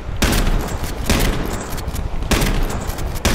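Repeated gunfire from the video game H1Z1, loud bursts of shots and booms recurring in clusters through the clip with a dense crackling tail, no talking over it.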